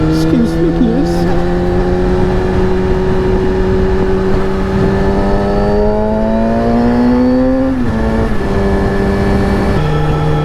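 A motorcycle engine drones steadily and loudly up close, its pitch slowly climbing before dropping sharply at two gear changes, with wind rush throughout.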